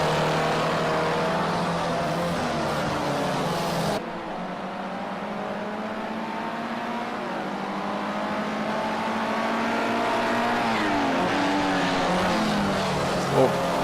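Formula C race cars lapping Ruapuna Park, a continuous loud engine drone with rising and falling revs as cars accelerate and shift, with commentary over it.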